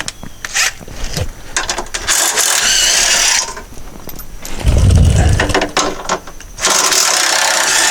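A ratchet works on 15 mm bolts during a vent valve replacement on a 2007 GMC Acadia, giving bursts of clicking and mechanical grinding broken by short pauses, close and loud.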